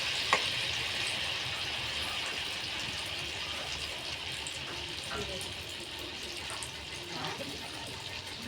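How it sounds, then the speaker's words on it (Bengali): Malpua batter frying in hot oil gives a steady, even sizzle with a soft bubbling wash that holds through the whole stretch, a close kitchen sound with a few small clicks and no voices. "এই দেখো মালপোয়া ভাজছি।"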